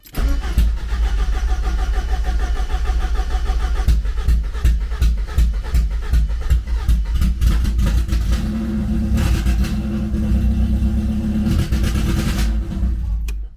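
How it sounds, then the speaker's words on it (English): A V8 engine running loud and close, with a deep steady rumble and rough revving throughout, with no voices over it. "Do you like my V8?"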